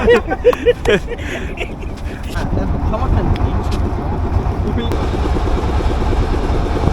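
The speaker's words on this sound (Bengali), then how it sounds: "আমাদের ট্রলার এখন ছেড়ে দিছে হারবারের উদ্দেশ্যে" Trawler boat engine in the Sundarbans, a low steady motor rumble rising after speech and chatter at the start, continuing close and even as the vessel gets underway.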